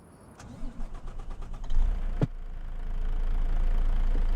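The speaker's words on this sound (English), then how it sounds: "Why is the truck auto starting?" A truck engine in the video game Farm Sim 25 cranks with a rapid stuttering whir, catches, then settles into a steady, loud idle hum.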